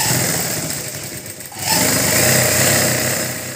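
Sewing machine running in quick bursts while stitching a close-neck blouse, a steady buzzing whir that dips briefly in the middle and resumes loud and close.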